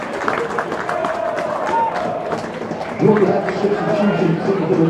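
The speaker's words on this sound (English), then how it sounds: "gets a warm round of applause" A rugby league crowd at an Oldham versus Orrell match gives a player a warm round of applause, a spread-out patter of clapping and crowd murmur under a commentator's voice, fading as a steadier tone joins midway.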